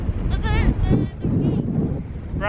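Low, blustery rumble of strong wind buffeting a microphone at the beach near Flamborough Head Lighthouse, continuous and loud, with a voice faintly mixed in.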